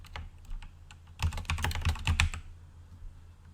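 Keys clack on a computer keyboard while someone fills in a sign-up form, a quick close burst of rapid taps after a few scattered presses, then quiet.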